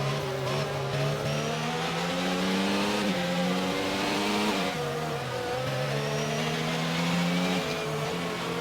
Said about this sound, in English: We're going to follow the safety car around one more time